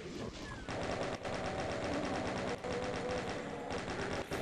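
Rapid automatic gunfire in the Doom video game, dense unbroken bursts of shots with brief gaps, loud and close, with no talking.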